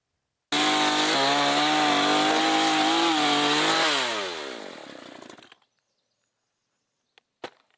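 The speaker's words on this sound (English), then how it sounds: "It's not Doom without the chainsaw." A chainsaw in the video game Doom roars loudly and steadily, then winds down with a falling pitch and fades out, followed by a couple of faint clicks.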